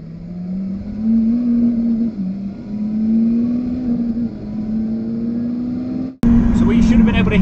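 Cars on a road hum and rev close by, a steady droning engine tone rising and falling before a sudden louder burst near the end, heard past noise-cancelling headphone cups.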